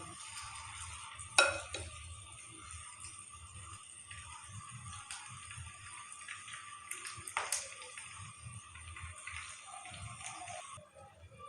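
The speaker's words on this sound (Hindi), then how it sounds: "एक पैन में मैंने ऑयल लिया है और ऑयल हमारा गर्म हो चुका है। अब हम इसमें पकोड़े डालेंगे।" Onion pakoras frying in hot oil in a pan over a medium flame, a steady soft sizzle running throughout with a sharp clink of a spoon against the pan near the start and another around the middle.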